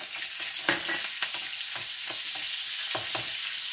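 Mustard seeds and green chilli frying in virgin coconut oil: a close, steady sizzle broken by a scatter of sharp, irregular pops and crackles.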